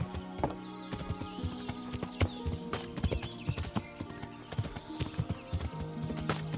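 Horse hooves clip-clop in the Kingdom Come: Deliverance video game, an uneven rapid run of close, crisp hoof strikes over a low rumble, with faint background sounds.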